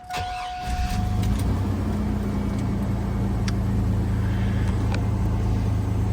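Chevrolet Blazer engine cranking briefly and catching, then settling into a steady, loud idle rumble close by, with no one speaking over it.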